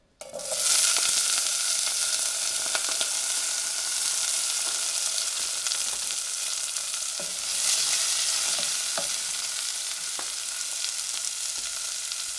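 Onions sizzle in about two tablespoons of olive oil for a Madrid-style mushroom soup, a steady, loud, close frying hiss with a few soft stirring clicks throughout.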